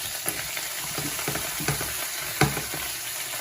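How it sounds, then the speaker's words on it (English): Vegetables sizzle and fry in a hot pan with occasional stirring clatters, a close, continuous crackle with a few sharper knocks and no talk. "So we're gonna add all our vegetables here."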